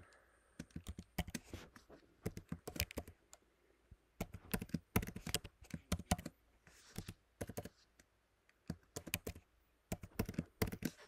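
A password is typed on a computer keyboard in close, crisp bursts of key clicks separated by short pauses, fairly quiet, with no speech.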